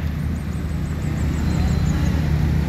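A Gumarang Jaya intercity bus passes by on the road, its deep engine rumble swelling toward the end, with a faint series of high chirping tones riding above it.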